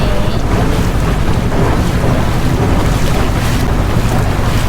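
A boat travels across the misty, cold Mae Ngat dam reservoir in Chiang Mai, giving a loud, steady rumble of engine and rushing wind that runs unbroken throughout.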